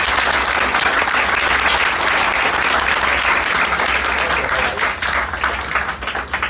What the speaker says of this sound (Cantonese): 我哋亦都以熱烈掌聲歡迎